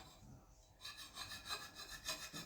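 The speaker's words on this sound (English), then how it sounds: "I'll finish it with an Arkansas stone." An axe edge is honed on an Arkansas stone, a steady gritty rubbing with repeated strokes that starts after a brief quiet moment, close and alone.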